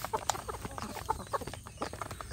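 Free-range village chickens cluck and call in short bursts, several birds close by, with faint farmyard background and no speech.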